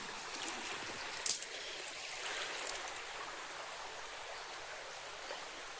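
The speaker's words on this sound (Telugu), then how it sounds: "అడవి మధ్యలో కోనేరు అడవి మధ్యలో వాగు సెలయరు" A forest stream flows with a steady, soft rush and trickle. It is fairly faint and continuous, with a few small splashes near the start and no voices.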